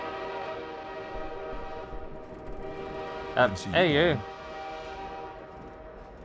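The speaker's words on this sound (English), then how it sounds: "Can't wait to get off this train." Train riding in the Half-Life 2 VR mod: a steady hum of a moving train carriage, broken by a short warbling horn-like whistle near the middle, with a voice briefly speaking.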